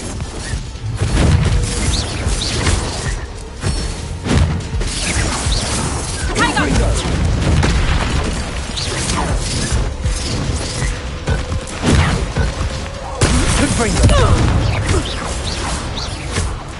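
Bombarda explosion spell cast in Hogwarts Legacy on PS5, with booming blasts, crashes and whooshes of magical combat spread across a long stretch, loud and busy, layered over game music and sound effects.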